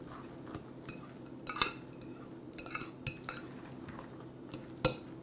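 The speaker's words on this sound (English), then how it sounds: "I'll mix that in before and get that all blended really" Fork stirring quinoa into a turkey meatloaf mixture in a bowl, giving soft, irregular clinks and scrapes of metal on dish with a few sharper taps, fairly quiet and without talk.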